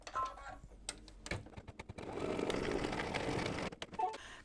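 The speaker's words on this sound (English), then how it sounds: "I'm going to leave the white in the machine and I'm going to stitch the outline for the soccer ball" A sewing machine stitches the outline of a soccer ball onto a fabric mug rug with white thread, a steady close mechanical whir running for a couple of seconds after a few brief clicks and taps.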